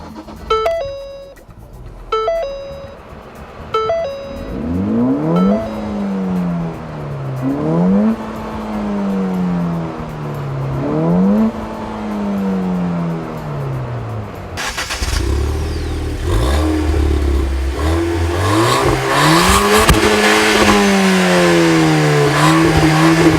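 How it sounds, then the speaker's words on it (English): A 2014 Ford Fiesta ST turbocharged hatchback revs hard through several gears, its engine rising and dropping in repeated climbing sweeps, loud and close from inside the car, after a few chime tones at the start. "That's some American turbocharging right there, y'all."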